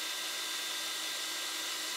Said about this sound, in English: I'm going to bed it in using my trusty DeWalt drill.